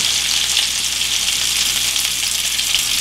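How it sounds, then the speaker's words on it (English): Elk back strap sears in olive oil in a hot pan, giving a steady, loud, even sizzle that carries on without a break and with no voices. "And then I am going to put on my chunk of meat."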